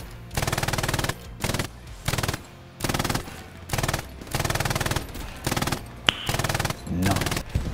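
Machine gun fire in the World War II shooter Hell Let Loose: repeated loud, close bursts of rapid automatic shots, each lasting under a second, separated by brief gaps, with one sharper crack near the end.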